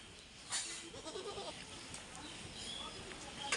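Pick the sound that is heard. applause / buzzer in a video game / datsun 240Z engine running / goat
goat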